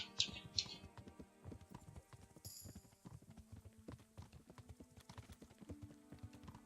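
Horse hooves clip-clop in a steady, fairly quick rhythm while riding in Kingdom Come: Deliverance, close and clear, with a few brighter clicks and a short high burst of game sound partway through.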